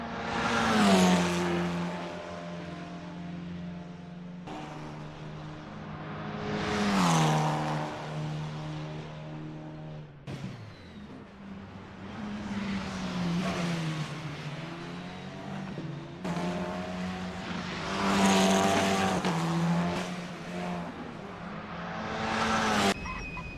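Formula 4 race cars lapping Bathurst in Assetto Corsa, engines screaming up through the gears and dropping on downshifts in repeated waves, each car sweeping past loud and close before fading, with no talk.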